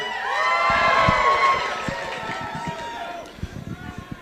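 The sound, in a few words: audience cheering at comedy show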